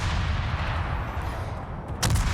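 Rapid naval gunfire from Des Moines-type cannons in a warship video game, continuous dense booming salvos with very fast reloads, loud and close, with a sharper burst near the end.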